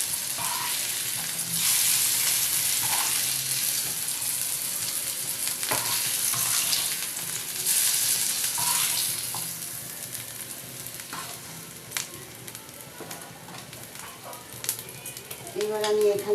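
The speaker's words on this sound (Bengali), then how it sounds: "এবার আলুটাকে একটু ভেজে নেব।" Potato pieces fry in hot oil in a pan in a home kitchen, making a steady, close sizzle with occasional stirring clicks and scrapes that come and go throughout.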